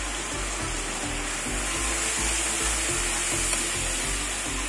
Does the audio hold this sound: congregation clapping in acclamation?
no